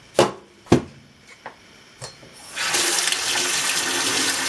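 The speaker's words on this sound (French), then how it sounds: "Je nettoie l'intérieur de l'Aerosimo 3 à l'eau chaude." A few light knocks and clicks come first, then hot tap water gushes steadily and loudly while the inside of an Aeroccino 3 milk frother is rinsed at a sink. There is no talking.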